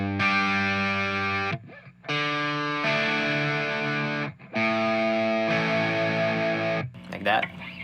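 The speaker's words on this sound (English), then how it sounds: "So I just played normal open chords." Distorted electric guitar strums open chords, picking bass notes before sweeping the higher strings, three sustained high-gain chords separated by short pauses.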